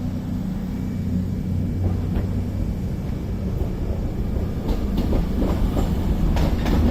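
A pair of Avanti West Coast Class 221 Super Voyager diesel units departs Crewe on the London Euston service, making a loud, steady engine rumble and rolling drone with faint clicks of wheels over rail joints building near the end.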